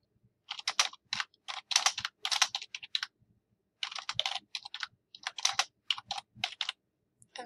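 Notes typed on a computer keyboard, rapid clusters of crisp close key clicks in short bursts separated by brief pauses, with no voices.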